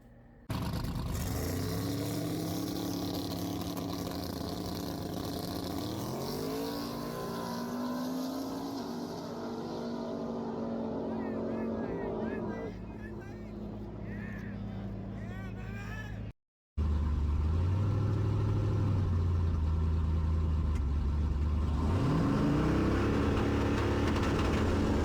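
A 1200hp SBE 4.8 race car idles, then revs and roars through a drag race round, its engine note rising and holding loud, cutting out briefly before another loud stretch, with voices in the background.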